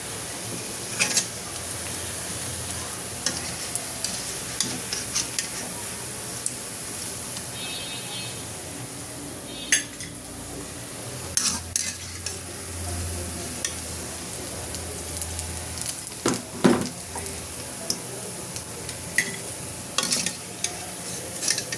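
Shaped pitha snacks deep frying in hot oil make a continuous bubbling sizzle, broken by irregular clinks and scrapes of a utensil turning them, close and moderately loud with no talk.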